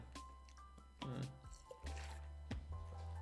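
Water being drunk from a bottle, heard as a few soft gulps, sips and liquid squishes close by, fairly faint, with short pauses between them.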